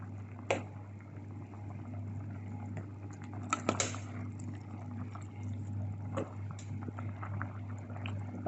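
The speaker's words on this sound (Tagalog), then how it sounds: "Kumukulo na siya" A pot bubbles at a low simmer, soft and steady, with occasional clinks and small knocks close by.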